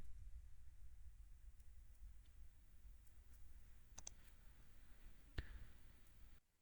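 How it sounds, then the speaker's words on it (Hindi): A computer mouse click on a Next button while filling in an online travel registration form, a single faint sharp click near the end against quiet room background. "आपने नेक्स्ट पे क्लिक करना है।"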